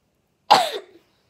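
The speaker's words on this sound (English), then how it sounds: "I have to cough" A single sharp cough, close and loud, with a short raspy tail fading out in under half a second, surrounded by silence.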